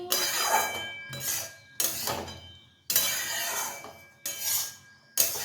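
Cooked biryani being mixed in a pot, bursts of scraping, clinking utensil strokes against metal coming in uneven spells with short pauses between, close and fairly loud.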